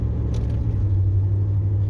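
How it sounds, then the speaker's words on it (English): A Dodge or Ford truck on a test drive after a loose steering repair, with a steady deep engine and road rumble heard from inside the cab, constant and fairly loud. "Okay, one last drive before I park it."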